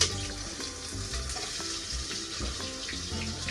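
Onions hit a hot pan and fry with a soft, steady sizzle, fairly quiet and continuous with no talking.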